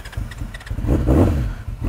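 A cold carbureted motorcycle engine cranks with an uneven, low sputter, then catches and settles into a rough, loud idle close by, with no talk over it.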